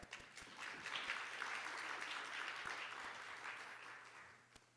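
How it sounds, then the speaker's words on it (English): A conference audience applauds at a global sexual and reproductive health event, a steady wash of clapping heard from some distance and fairly faint, with a few sharper claps nearby standing out. "A big round of applause for Sarah."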